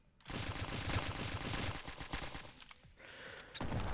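Rapid automatic gunfire from the stick-figure shooter game Stick Warfare Blood Strike rattles in dense, loud bursts, with a short pause before the shooting resumes.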